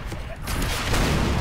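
A rocket launched at a tank in the Call of Duty World at War video game, a dense roaring blast that swells and sustains loudly across the moment amid battle noise.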